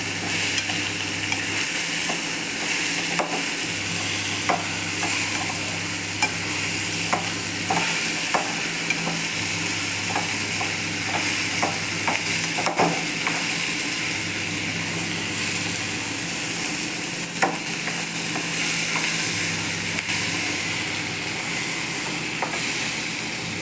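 Large capsicum pieces stirred as they fry in a pan for capsicum gravy, a dense, steady sizzle broken by repeated spatula scrapes and light knocks over a low background hum, with no voices.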